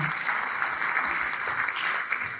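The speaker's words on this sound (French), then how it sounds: "J'aimerais qu'on l'applaudisse" An audience at a conference on industrial ecology and sustainable territorial development applauds steadily, a dense, even patter of clapping heard from within the room for a couple of seconds.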